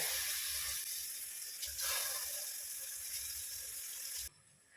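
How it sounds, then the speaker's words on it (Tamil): Water runs steadily into a cooking pot of rice with a bright hissing splash, continuing for several seconds before abruptly stopping, leaving quiet background. "நான் நாலு கிளாஸ் தண்ணி ஊற்றுறேன்"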